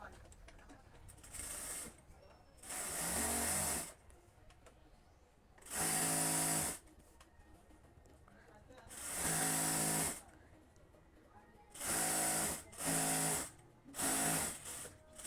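Sewing machine stitching the side seam of a petticoat, running in about seven loud bursts of rapid whirring stitches separated by quiet pauses, with low background noise between runs.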